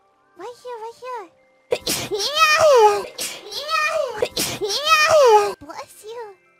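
A single sneeze bursts out amid animated, high-pitched childlike voices chattering before and after it.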